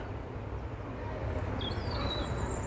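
A robin chirps faintly in the distance, a few high thin notes over a steady low background rumble.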